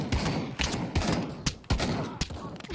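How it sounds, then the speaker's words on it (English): Rapid bursts of gunfire in the Pavlov VR shooter game, loud, close and clustered in several sharp volleys across the clip with brief gaps between them. "Whoever just shot in the kitchen."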